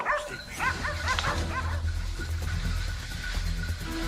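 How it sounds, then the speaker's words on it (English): Hunting dogs bark fiercely during a wild boar hunt, a rapid run of sharp, yelping barks close by over a low engine rumble, fading into whimpers and more distant noise. "the fierce barking of the hunting dogs rang out like a guiding signal"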